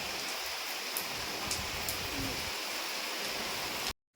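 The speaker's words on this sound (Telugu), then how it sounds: "ఇక్కడ కూడా చూడండి ఫుల్గా వర్షం" Heavy rain falls outdoors among trees near a road, a steady broadband hiss of downpour with faint passing-traffic rumble, continuous until it cuts off abruptly at the end.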